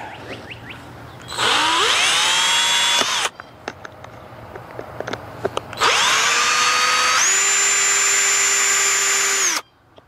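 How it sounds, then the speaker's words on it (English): A cordless power drill drives screws in two sustained bursts, its motor whining and shifting pitch as it strains, with quiet clicks and handling noises in the pause between runs. "we're just going to try to run some screws in here"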